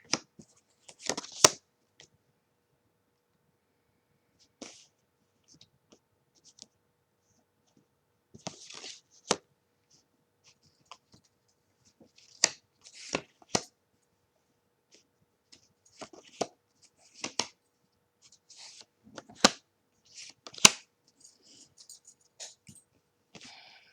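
Chakra Wisdom Oracle cards being shuffled and handled, giving scattered soft crisp riffles and taps with quiet pauses between bursts, close by and no talking.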